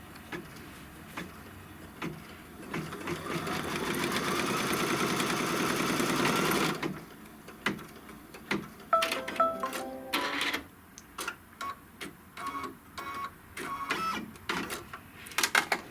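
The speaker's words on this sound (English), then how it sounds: "Put the hoop back on, and it's going to sew this seam line." An embroidery machine stitches a seam line through fabric held in its hoop, a steady mechanical whirring hum for several seconds that then breaks into short intermittent bursts and clicks.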